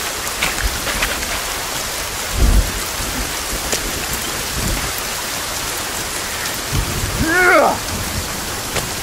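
Rain and a thunderstorm in the survival video game Sons of the Forest: a steady hiss of rainfall with a deep thunder rumble, and a brief creature cry rising near the end.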